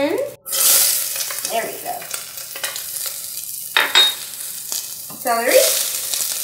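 Garlic hitting a hot pan on medium heat, a loud bright sizzle bursting up and then frying steadily, with stirring and a cook talking over it.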